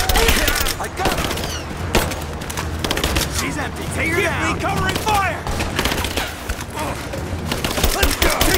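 Bursts of gunfire crackle in a Rise of the Tomb Raider firefight, dense and sustained rapid shots that fill the clip, with voices calling out through the shooting.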